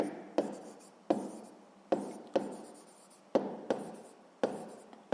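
Handwriting while working out a sixth-grade math sum, heard as about seven separate scratchy bursts of pen or pencil strokes, close and fairly quiet, each fading quickly, with no talking.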